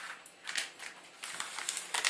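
Flour is sifted through a sieve for a curd cake with raisins, giving soft, close, gritty rustling and scratching in short bursts with brief pauses between them.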